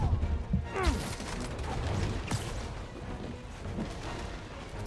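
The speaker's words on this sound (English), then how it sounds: "Gotta watch out for that gunfire." Gunfire in the video game Marvel's Spider-Man comes as scattered sharp cracks and booms amid crashing action sounds, fairly quiet overall with a few distinct hits.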